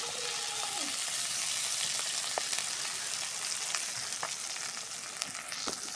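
Pabda fish in a mustard curry sizzles steadily in a pan as it is stirred around, a constant close hiss broken by a few faint scrapes and taps, with no talking.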